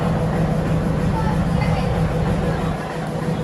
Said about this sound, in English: Train just start up as well.